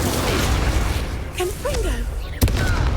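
An Incendio fire spell cast in Hogwarts Legacy gives a single sharp, close burst near the end, following busy game noise and a voice.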